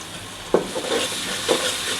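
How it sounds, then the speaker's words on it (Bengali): Onions fry in hot oil in a pan for a chicken and papaya curry, giving a steady sizzling hiss with a couple of brief stirring scrapes and no talking. "এই যে পেঁয়াজ দিয়ে দিলাম, পেঁয়াজটা একটু ভেজে তারপরে রসুন দিয়ে দিবেন"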